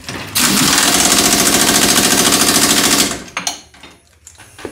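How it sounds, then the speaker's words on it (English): An impact wrench fitted with a 140-pound torque stick tightens a lower shock bolt on a 2005-2017 Nissan Frontier, a loud, fast, continuous hammering rattle lasting about three seconds before cutting off into quieter shop clatter. "I'm just going to use a 140-pound torque stick."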